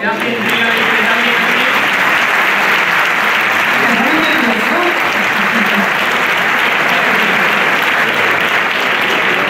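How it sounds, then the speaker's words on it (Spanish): A copla award ceremony audience in Córdoba breaks into loud, sustained applause, a dense wall of clapping that holds steady from start to finish. "Un aplauso."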